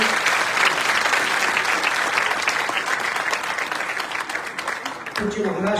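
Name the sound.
audience applauding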